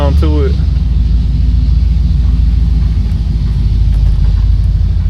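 A 1969 Oldsmobile Delta 88 engine idles with a deep, steady, loud rumble that holds continuously as the car is shifted into drive, with a brief voice at the start.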